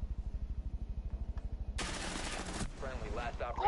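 Rapid automatic gunfire in Rainbow Six Siege, a fast regular burst of shots for nearly two seconds, then a louder blast-like noise and someone speaking at the end.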